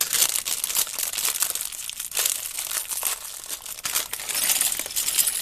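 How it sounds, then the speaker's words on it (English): Crinkly plastic packaging from a Lego Electric Sports Car set being handled and unwrapped, a continuous close rustling and crackling with bursts of louder crumpling throughout, no talking. "get all the crinkly plastic stuff out of the way"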